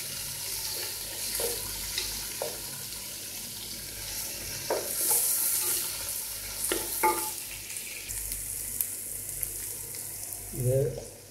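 Ingredients for a large fish choora curry fry in a pan while being stirred: a constant soft sizzle with intermittent scraping strokes of the spoon, and a brief voice near the end.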